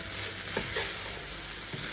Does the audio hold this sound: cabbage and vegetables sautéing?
yes